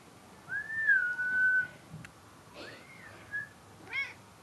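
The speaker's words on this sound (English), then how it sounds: "She meows." A female cat gives a drawn-out, tonal meow, followed by a second rising meow and a short chirp, close by and clear against a quiet room.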